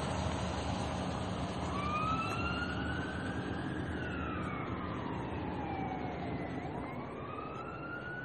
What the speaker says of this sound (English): it's because that siren's going off